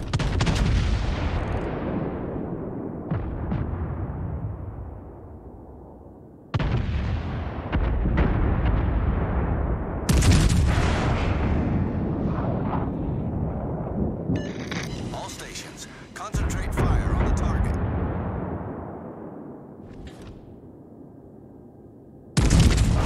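Heavy naval gunfire from warships in World of Warships: Legends, including the battleship Wyoming: several massive booming salvos spaced seconds apart, each a deep thunderous blast rolling into a long fading rumble, with a brief radio voice.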